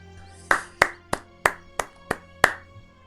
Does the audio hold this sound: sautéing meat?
no